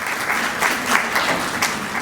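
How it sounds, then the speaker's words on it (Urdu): Applause from a congregation at a First Sunday of Advent church service, a dense, steady burst of many hands clapping close and loud throughout, with no break. "اے وکیل صاحب کے لیے تالیاں بجائیں بھائی"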